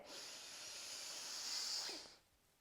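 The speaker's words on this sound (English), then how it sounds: "Breathe in." A single long, deep inhalation lasting about two seconds, a steady breathy hiss that swells slightly before cutting off, close and fairly soft with no talking over it.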